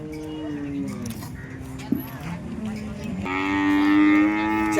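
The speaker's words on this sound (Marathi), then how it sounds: "प्युअर एचएफची वासरी आहे." Pure Holstein Friesian heifer at a cattle market, a drawn-out moo rising into a louder, tonal bellow near the end, close, over background crowd noise.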